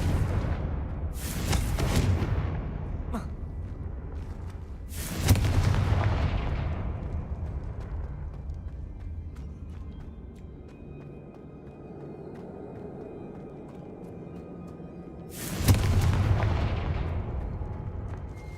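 Three heavy blasting-spell explosions in the Hogwarts Legacy video game, each a sharp booming burst with a rumbling decay, spaced several seconds apart over a low ambient background.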